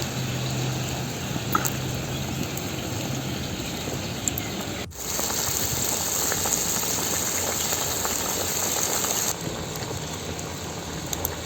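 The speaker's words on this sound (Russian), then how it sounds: "Как только у нас зырвак закипел" Zirvak, the plov base, boiling in a kazan over a wood fire outdoors, a steady close bubbling hiss that runs on without a break and briefly dips in the middle.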